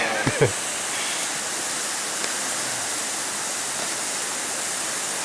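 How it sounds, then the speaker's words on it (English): Steady rushing roar of a small waterfall on a hiking trail at Ferne Clyffe, constant and full, with a couple of brief knocks near the start. "That's a big small waterfall."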